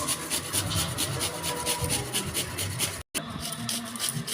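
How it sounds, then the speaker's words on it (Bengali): Raw mango is rubbed against a grater in steady, repeated rasping strokes, close and fairly quiet, with a brief gap partway through. "আমি এখন আমটা এরকমভাবে ঘষে নেব।"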